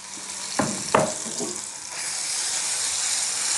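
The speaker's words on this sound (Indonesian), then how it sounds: "Nah, ini minyaknya udah panas, sekarang aku mau masukin tomatnya dulu" Tomatoes and a ground spice paste drop into very hot oil in a pan: two sharp clattering splashes, then a steady, loud, hissing sizzle that builds and holds.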